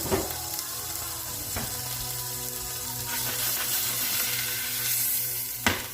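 Green garlic and bacon sizzle in a roux, a steady close frying hiss that swells midway, with a few sharp utensil knocks against the pan.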